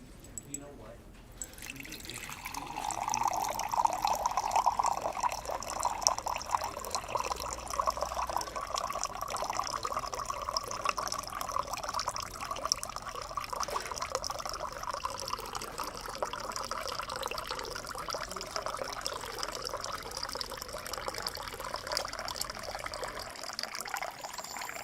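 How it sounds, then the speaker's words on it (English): Tap water runs in a steady, continuous stream for about twenty seconds, a soft even trickle and splash that begins after a short quiet moment, with a voice heard at times over it. "You like to hear water?"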